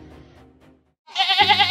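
A toy sheep in an animal farm diorama gives a loud, wavering bleat that starts abruptly after a short silence and is preceded by faint low murmuring, close and prominent.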